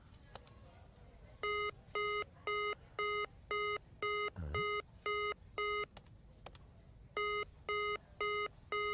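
A telephone rings in a Telugu comedy scene, a fast series of evenly spaced electronic ring pulses with a brief pause partway through, clear and moderately loud against a low background.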